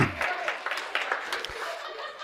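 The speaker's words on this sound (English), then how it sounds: "Give yourselves a big round of applause." Seminar audience applauding, a short, moderately loud burst of clapping with a few laughs mixed in, fading over about two seconds.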